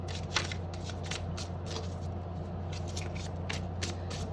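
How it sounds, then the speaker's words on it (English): A tarot card deck is riffle-shuffled close up, giving repeated quick crisp fluttering bursts of card edges in a regular rhythm over a low steady hum. "let's see how it riffles, shuffles on camera"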